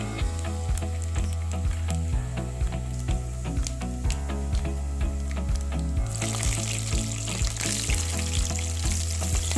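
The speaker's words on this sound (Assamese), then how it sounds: "এইখিনি গৰম হৈ অহাৰ লগে লগে ইয়াত মই কাটি ৰখা নহৰুখিনি দিম" Chopped garlic and five-spice seeds frying in hot oil for a fiddlehead fern and fish-head stir-fry, a steady close crackling sizzle that swells louder toward the end, with no talk.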